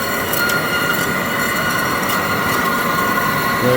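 A reconditioned HEM H120LA bandsaw runs loud and close with its coolant pump going, giving a dense, constant mechanical roar with rattling and clattering throughout and no voices.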